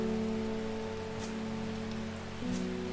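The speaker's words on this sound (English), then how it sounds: "It's raining out in the game" Rain falls steadily in a video game as a continuous soft hiss, layered with sustained tonal hum or music throughout.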